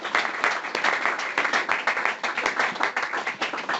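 Audience clapping at a charity award launch presentation, moderately loud and fairly steady, with individual hand claps audible through the crowd applause.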